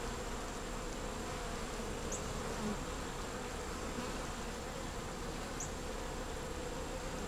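Honey bees buzz in a dense, continuous drone inside an open hive, close and steady, with no voices.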